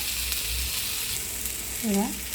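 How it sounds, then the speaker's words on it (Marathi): Whole tomato, onion and chili roasting in a hot pan for an omelette give off a steady close-up sizzle and crackle throughout, with no talking. "पूर्ण टॅमॅटो कांदा मिरची पूर्ण भाजून घ्यायची"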